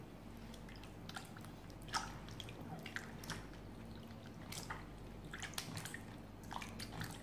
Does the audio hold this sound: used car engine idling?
no